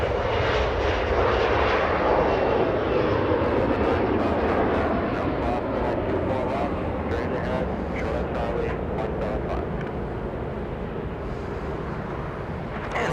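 A French Bee airliner departs Los Angeles International Airport, its loud jet roar strongest early on and gradually fading, while a person talks over the engine noise.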